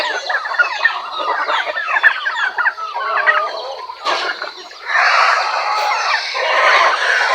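Farm turkeys and other poultry fill the air with close, busy clucking and gobbling calls, loud and overlapping, the flock chattering on without pause.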